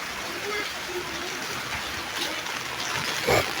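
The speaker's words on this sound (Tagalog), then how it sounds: "Ulan na guys." Steady outdoor rain falling as a soft, continuous hiss with faint splashing, fairly quiet, with a brief louder patter near the end.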